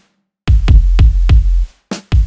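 Drill beat drums at 146 BPM, hi-hats, snare and kicks, hitting loudly as four heavy booming strikes in steady succession, a brief gap, then a couple more punchy hits.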